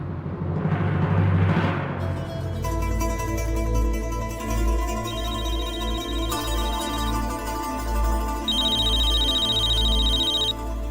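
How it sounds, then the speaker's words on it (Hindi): A telephone rings with repeated electronic tones over a sustained musical drone, fairly loud and continuous, with no talking. "अरे अनुराग का फोन है।"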